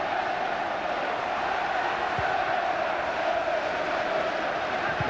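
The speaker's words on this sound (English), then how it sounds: "the crowd have increased the noise level" Football crowd noise in a stadium at a Crystal Palace versus Everton match in 2004/05, a steady distant roar of supporters that holds evenly throughout with no single voice standing out.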